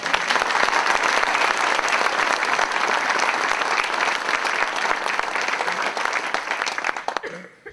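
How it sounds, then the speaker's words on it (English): An audience at a history roundtable applauds for the organizer, a dense, loud and steady wash of clapping that runs for several seconds before tapering off at the end. "I want you to express your appreciation with applause for Don Patton."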